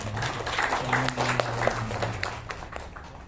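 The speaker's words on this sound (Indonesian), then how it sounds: "tepuk tangan buat Anda semua ya" Applause from the audience at an Indonesian agricultural ministry training ceremony, a dense patter of clapping hands mixed with overlapping chatter and a low hum, moderately loud throughout the short burst.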